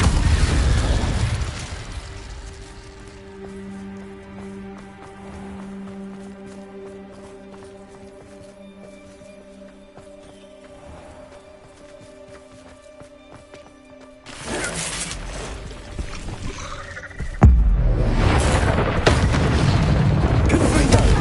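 An Incendio fire spell is cast in the video game Hogwarts Legacy: after a long, quiet stretch of low tones, a loud roaring whoosh of fire bursts in near the end, followed by a sharper blast.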